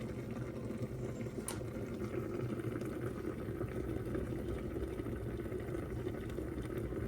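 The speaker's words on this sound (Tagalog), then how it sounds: "Kumukulo na sila guys." A steady low bubbling and rumbling continues without a break from a pot of fish and vegetable soup at a rolling boil nearby.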